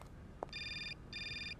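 A phone rings in the video game Syberia: two bursts of an electronic trilling ring, preceded by a short click, fairly faint, with no talk.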